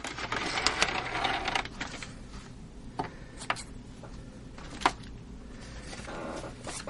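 Singer Pixie Craft sewing machine running a tight zigzag stitch, a quiet, fast mechanical clatter with scattered sharper ticks and clicks, close and alone.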